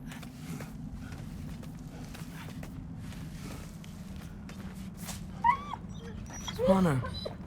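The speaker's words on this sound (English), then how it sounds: "Yay, doggies." Dogs whimper in a game scene, two short high whines near the end over a low steady ambient hum, with a voice talking faintly.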